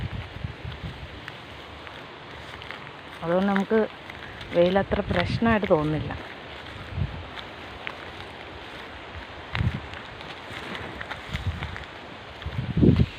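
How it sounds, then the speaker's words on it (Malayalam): Strong gusty wind at midday outdoors among banana and coconut trees, a steady loud rushing wash buffeting the microphone throughout, while a person talks briefly over it. "കൊടുങ്കാറ്റ് വീശുന്ന പോലത്തെ കാറ്റുണ്ട്"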